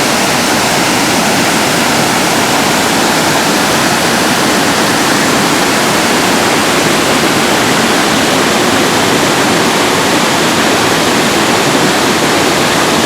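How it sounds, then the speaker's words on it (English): The Lewis River in Yosemite rushes down to feed Merced Lake, a loud, steady, close roar of flowing water that holds unbroken throughout, with no voices. "this is the Lewis River coming down to feed Merced Lake"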